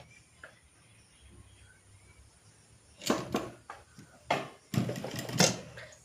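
A sewing machine stitches the hem of a baby's pants. After a quiet stretch come short, loud bursts of whirring stitching, starting and stopping several times, with no voices.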